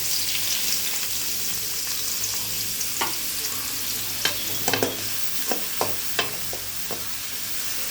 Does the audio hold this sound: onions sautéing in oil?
yes